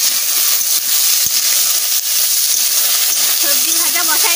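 Vegetables fry in a curry pan with a steady, loud hiss and sizzle that carries on throughout, broken by faint clinks of stirring and a voice speaking toward the end.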